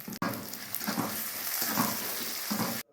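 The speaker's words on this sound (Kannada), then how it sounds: "ತೆಂಗಿನ ಎಣ್ಣೆಗೆ ಸಾಸಿವೆ ಒಣಮೆಣಸು ಕರಿಬೇವಿನ ಒಗ್ಗರಣೆಯನ್ನು ತಯಾರಿಸಿ" Mustard seeds, dry chillies and curry leaves hit hot coconut oil in a tempering, giving a sharp, close sizzle with crackles that lasts under three seconds before cutting off abruptly.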